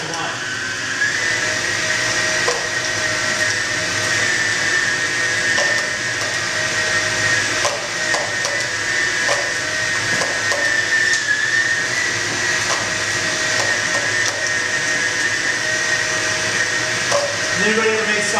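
A meat grinder works pork into sausage with a steady, loud mechanical whir and hum that runs without a break, while people talk under it.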